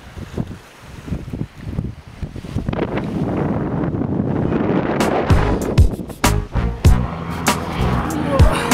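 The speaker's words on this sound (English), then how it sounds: "Today was way too windy for filming." Strong wind buffets the microphone in gusty rumbling bursts, with irregular thumps and crackles growing rougher toward the end.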